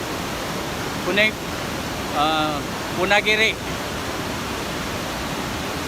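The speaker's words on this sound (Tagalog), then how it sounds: "Ang lakas ng tubig po dito." Strong rushing water pours steadily at Funagira Dam on the Tenryu River, a loud, constant broadband roar filling the scene, with brief spoken remarks rising over it.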